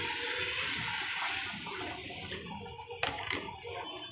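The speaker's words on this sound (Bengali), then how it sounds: "জল দেবো" Water is poured into a pan of spiced masala for matar paneer curry, giving a steady rushing splash that softens toward the end and is broken by a brief clatter, with no talking.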